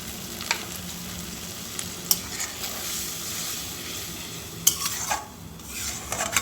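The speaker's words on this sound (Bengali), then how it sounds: "দেখো, এখন পোস্তটাকে আমি 2-3 মিনিট ফুটিয়ে নেব, পোস্তর কাঁচা গন্ধটা যাওয়া পর্যন্ত।" Poppy seed paste with a little water simmers in a pan for an egg posto dish, a soft steady sizzle broken by close scraping stirs and occasional sharp utensil clinks against the pan.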